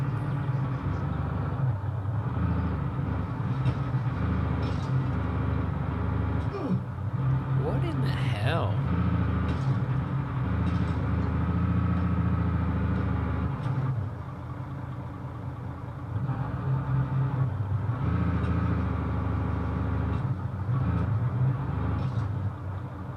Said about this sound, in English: this dumbass truck seems to be being stupid